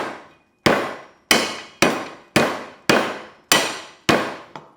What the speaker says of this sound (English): Lemongrass, give them a good bash first.